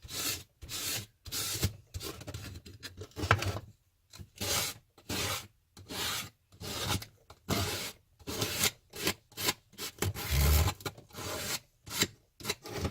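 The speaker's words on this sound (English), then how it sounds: "you can take your sandpaper and just sand it down real good" Sandpaper rubbing over painted wood on a homemade farmhouse bird feeder, a long run of rhythmic back-and-forth scratchy strokes. The strokes are close and fairly loud, with brief pauses between them and no speech.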